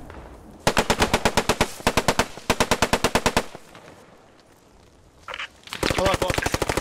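Bursts of automatic gunfire from the WWII shooter game Post Scriptum, with two long rapid rattling strings, a pause, then another close burst, over faint battlefield noise.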